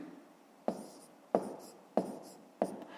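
Numbers are written by hand while working a fifth-grade math exercise, four distinct pen taps and strokes spaced evenly and close up, with no talking.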